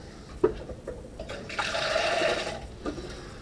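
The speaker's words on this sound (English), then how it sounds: "just pour this last draggy bit in" Homemade strawberry wine being poured, a short trickle of liquid that swells into a steady splashing pour for about a second before tapering off, close and fairly quiet, with a soft knock at the start.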